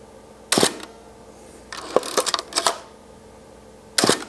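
Camera shutter clicks from a 35mm SLR: a sharp snap, then a cluster of quick mechanical clicks and whirs, and one more crisp snap near the end, close up.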